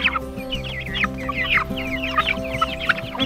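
Pet chickens cluck and churr continuously at close range while being picked up and handled outdoors, with a steady tonal hum underneath.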